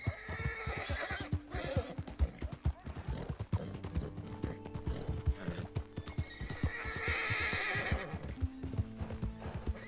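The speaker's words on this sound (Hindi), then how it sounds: "एक ये घोड़ा भी थक रहा है" Horse in Red Dead Redemption 2 clip-clopping along at a steady walk, its hooves knocking rhythmically, with a loud neigh near the end and faint music underneath.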